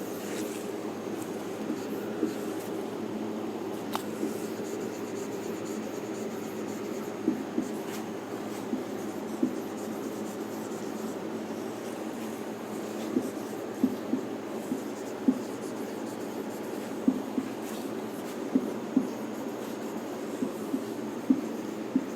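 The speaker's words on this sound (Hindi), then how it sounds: "अगला क्वेश्चन लिखते हैं" A pen or chalk writes out a maths question in steady scratchy strokes with occasional sharper taps, going on for over twenty seconds with no talking.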